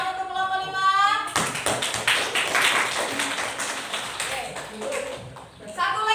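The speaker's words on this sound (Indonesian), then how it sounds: "tepuk tangan untuk kelompok 5." Classroom students clapping for a group after its presentation in a school guidance lesson on bullying; a burst of dense hand claps follows a brief spoken line and runs several seconds before voices return.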